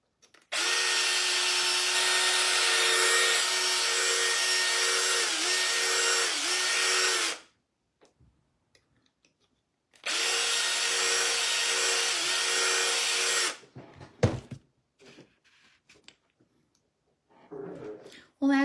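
A power drill smooths a hole in a homemade sugar glider bath tub, running loud and close in two long steady bursts of several seconds each, separated by a pause, followed by handling clatter and brief sounds.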